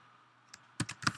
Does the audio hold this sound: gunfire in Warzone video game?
no